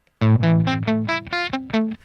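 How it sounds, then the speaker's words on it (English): A guitar played through a BandLab amplifier effect with the drive turned up gives a crunchy, grungy distorted tone. Several strummed chords ring loud and close, each one sustaining briefly before the next, with no voices. "If I turn up the drive a little bit, you're going to notice more distortion in the sound."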